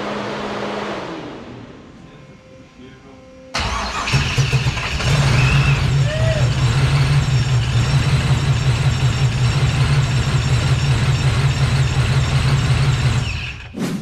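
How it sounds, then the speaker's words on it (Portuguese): A freshly rebuilt Corvette engine cranks and fires into a loud, steady idle with a rough, even pulse close by, after a quieter stretch of workshop noise. "funcionou o primeiro start do nosso motor novo aqui"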